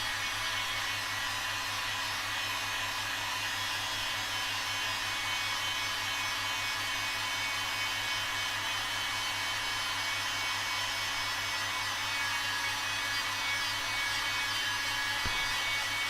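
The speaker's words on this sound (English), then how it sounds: "Then I'll use a hot air gun to dry them off." A hot air gun blows steadily to dry colours on a woodturning, a continuous even roaring hiss that holds at the same level throughout, close and alone with no talking.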